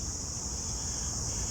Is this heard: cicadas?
yes